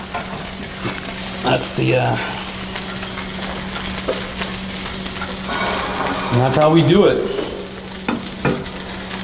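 Food frying in a hot skillet as barbecue sauce is added, a steady close sizzle with stirring scrapes and utensil clinks, under brief talk from a man.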